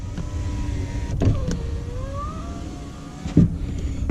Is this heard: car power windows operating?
yes